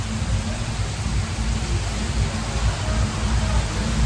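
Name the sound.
heavy rain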